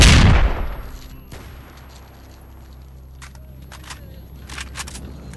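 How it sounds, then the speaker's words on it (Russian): A grenade goes off in the S.T.A.L.K.E.R. video game with a loud close blast at the start that fades into a quiet lull, followed later by a scatter of sharp gunshot cracks. "Получай гранату!"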